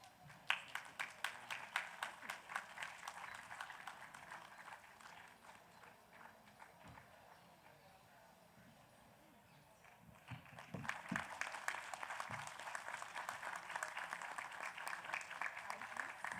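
Applause from an audience at a literary award event, many hands clapping in a dense patter that dips midway then swells again, heard at a moderate distance.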